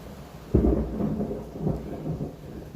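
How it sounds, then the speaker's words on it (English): Thunder rumbles through a heavy rainstorm at a rest stop, a sharp crack followed by rolling low booms over steady rain, heard at a moderate distance. "I don't know if you can hear the thunder and stuff out there, but it's really coming down."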